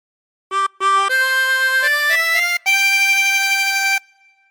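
A chromatic harmonica plays a slow phrase of the Star Spangled Banner: two short opening notes, then sustained, clearly pitched tones stepping through the melody, ending on a long held note that fades, with no voices.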